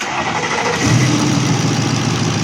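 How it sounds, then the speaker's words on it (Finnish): A Mercedes 400 CDI diesel engine with a Temic CRV1.0 control unit and immobilizer turned off cranks and catches, settling into a steady, close, loud mid-pitched running rumble alone. "Sitten ei muuta kuin moottori käyntiin"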